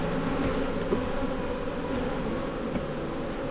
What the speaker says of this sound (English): this hive has a ton of bees, if you can't tell